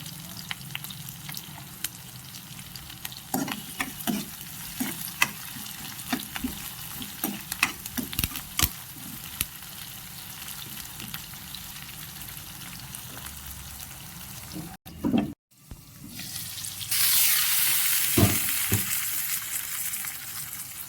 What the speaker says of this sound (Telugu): ఆనియన్స్ త్వరగా వేగుతాయి.